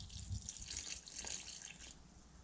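Lukewarm water poured into a bowl of dry dough for Czech bread dumplings, a soft trickling splash heard up close for about two seconds, quiet and fading toward the end.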